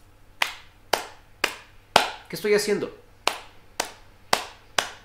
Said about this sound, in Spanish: Aplaudiendo.